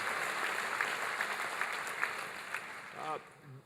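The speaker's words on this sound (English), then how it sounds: "Give them a big round of applause" Crowd applause at a presidential health care town hall in Green Bay, a dense steady wash of clapping that thins and fades at the end as a voice begins to speak.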